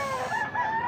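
A large rooster crows once, close and loud, its drawn-out call filling the whole second with a wavering, strained tone and no voices.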